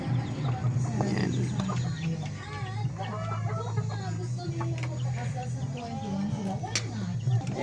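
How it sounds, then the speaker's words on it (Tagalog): Pet chickens in a coop at feeding time cluck steadily and close by, with hens chattering over a constant low hum. A person talks over the birds. "Ready na siya para sa pagpapakain natin sa ating mga alagang manok."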